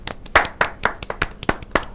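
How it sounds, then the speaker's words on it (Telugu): About nine hand claps at a steady, moderately quick pace, close and crisp, at a festive Vinayaka Chavithi gathering. "క్లాప్స్."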